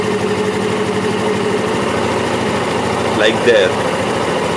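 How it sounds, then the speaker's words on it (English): A running engine drones steadily and fairly loudly, its pitch rising and falling with the RPM while a voice speaks briefly over it. "the engine running"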